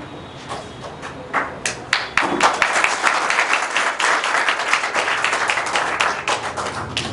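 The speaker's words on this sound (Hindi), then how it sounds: "जोरदार ताली बजाइए इनके लिए।" An audience applauds a student, starting with a few scattered claps that swell into dense, sustained clapping from a room full of people.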